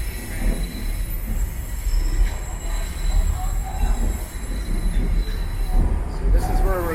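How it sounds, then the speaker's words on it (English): Toronto subway train wheels screech as the cars grind around a sharp curve on the loop into Union Station, a loud rumbling ride with high squeals rising near the end. "the train has to take a sharp turn, so that's why the wheels always screech here"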